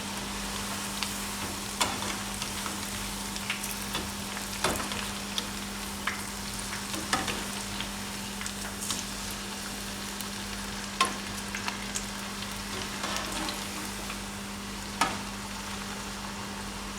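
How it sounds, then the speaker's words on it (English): Kaanda bhajia, onion bhajis, frying in oil give a close, steady sizzle with scattered crackles and pops throughout, and no talking. "now we just wait for the bhajis to fry"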